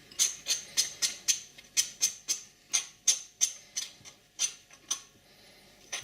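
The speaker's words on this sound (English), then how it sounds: "Just going to use a teaspoon, give this a mix." A teaspoon stirring thick honey mustard glaze in a small container, a string of about twenty crisp metallic clinks in a quick uneven rhythm, close and moderately loud, without speech.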